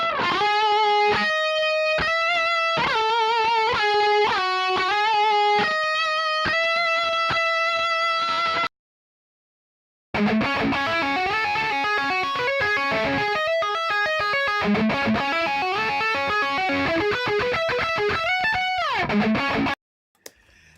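Heavily distorted metal electric guitar from a Kemper Profiling Amp, with no effects, plays crunchy riffs and chords, loud and saturated, with a brief silent gap before a second, denser passage.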